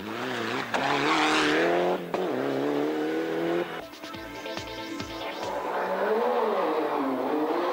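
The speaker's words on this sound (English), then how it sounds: "the howl of the opening cars through the town centre" Opening rally cars howl through a town centre, engines revving hard and shifting as they pass close by, loud and raw with rising and falling pitch and a burst of rattling mechanical noise midway.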